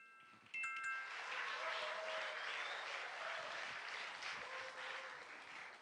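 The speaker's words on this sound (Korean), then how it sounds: "대구 외국어 고등학교 친구들을 힘찬 박수로 맞아주시기 바랍니다" An audience at a regional high school mock trial competition gives an incoming student team a round of applause, broad clapping starting suddenly after a faint beep and holding steady, with some tonal noises mixed in.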